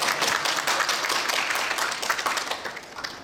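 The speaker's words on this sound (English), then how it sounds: "I think he deserves another round of applause." A crowd applauds with dense, continuous clapping, moderately loud and sustained throughout without any talking.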